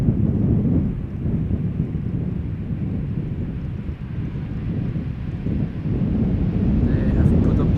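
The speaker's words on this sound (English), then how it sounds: "Embraer 170, arriving from Teesside or Darlington as KLM flight 964" A KLM Embraer 170 jet, twenty years old, arrives at Schiphol Airport with a loud, steady broadband roar dominated by low rumble, swelling slightly toward the end, buffeted by wind noise on the microphone.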